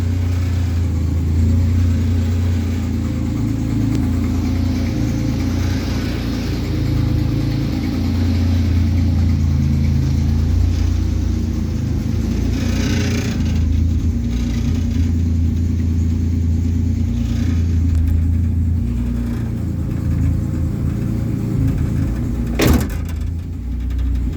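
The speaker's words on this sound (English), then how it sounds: "drive the car forward out of the garage with one arm, because my other hand is on the camera" A KITT replica car engine running steadily as it drives forward out of a garage, a close, continuous mid-pitched rumble with slight swells in revs and no talking.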